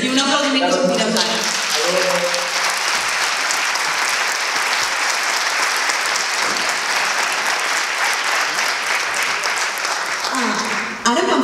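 An audience at a round-table discussion on photography breaks into sustained, dense applause lasting over ten seconds, with brief speech at the start and end.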